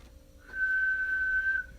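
A person attempting to whistle produces one steady, clear whistled tone lasting about a second, close and fairly loud, with no talk over it.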